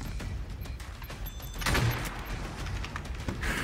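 Gunfire in the video game Call of Duty: Modern Warfare Warzone, a dense stretch of shots and impacts with a louder burst partway through, heard under steady game ambience.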